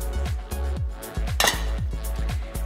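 Metal tongs clink and tap against a dish while onion rings are coated, giving a quick run of about a dozen close, bright metallic knocks in uneven rhythm.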